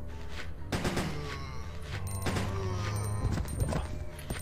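Gunfire in the video game Resident Evil Code Veronica X, several sharp shots spaced across a few seconds over a steady game background, fairly quiet overall.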